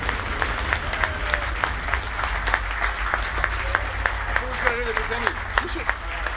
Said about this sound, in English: Big round of applause to our commentators, Dark Razer and Chiimera.